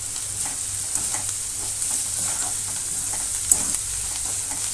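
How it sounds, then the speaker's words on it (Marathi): Chopped coriander is stirred and sautéed in a pan for masala rava idli, producing a steady bright sizzle with soft rhythmic stirring scrapes and a single clink partway through; no voices. "तर आपण लगेचच याच्यामध्ये कोथिंबीर घालणार आहोत चिरलेली। तर हे आपल्याला परतून घ्यायचं आहे।"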